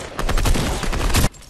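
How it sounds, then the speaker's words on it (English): Dense bursts of gunfire crackle in a Fortnite match, a rapid fusillade of overlapping shots and automatic fire that stays loud and continuous for over a second before cutting off sharply. "I'm hearing gunshots but I don't see the enemies"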